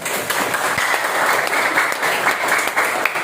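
Classroom audience applauding a student group after its presentation, dense sustained clapping from many hands filling the room at close range, steady from start to finish.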